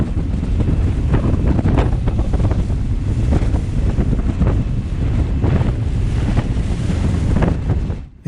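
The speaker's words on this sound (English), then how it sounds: "The waves began to build the further out I went" Waves slap and wash against a small boat out on Loch Linnhe while strong wind roars across the microphone, a loud, continuous rush with rhythmic splashes throughout.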